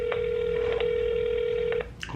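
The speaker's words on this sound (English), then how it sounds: "Phone ringing, phone typing, dialing." A telephone's dialing tones sound as one long steady beep, broken by a few short key-press blips, then end in a brief click.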